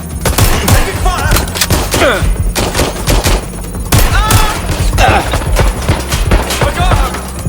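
Rapid gunfire bursts in the Watch Dogs Legion video game, loud overlapping shots and fusillades crackling in close succession, with in-game voices calling out over the shooting.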